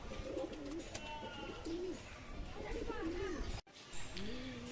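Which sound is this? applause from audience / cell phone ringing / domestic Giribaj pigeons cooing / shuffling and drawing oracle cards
domestic Giribaj pigeons cooing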